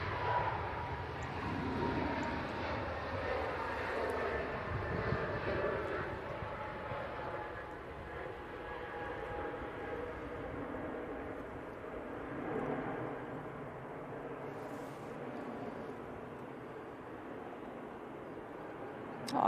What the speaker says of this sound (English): A320 Neo off to Tenerife.